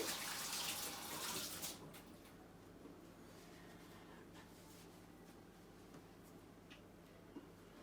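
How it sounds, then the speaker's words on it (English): Tap water runs steadily into a sink while hands are washed before cooking, a strong splashing rush for the first two seconds that then settles into a quieter, continuous trickle with faint clinks. "So I'm going to first wash my hands."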